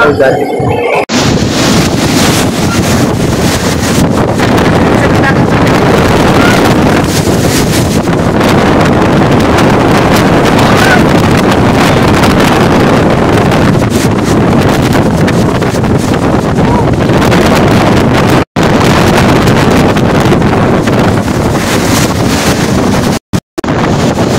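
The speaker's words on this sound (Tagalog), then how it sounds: "Parang palakas ang hangin guys." Strong typhoon wind roars on a small island in Northern Samar, a loud, constant buffeting rush battering the microphone for the whole stretch, broken only by brief cut-outs near the end.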